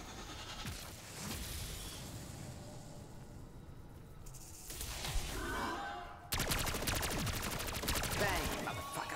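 Gunfire in Black Ops 6 Zombies as the player shoots symbols, rapid bursts of weapon fire that grow denser and louder toward the end, with game ambience and breathy vocal sounds underneath.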